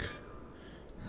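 A character in Metro 2033 Redux panting heavily, a short, quiet, close breath rush with a gasp at the start and another at the end.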